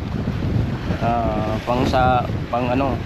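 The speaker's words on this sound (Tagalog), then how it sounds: "Grabe po yung lakas ng hangin, no?" Strong wind roars steadily against the microphone beside a high breakwater on Bato Lake, with choppy water underneath, and a person talks over it throughout.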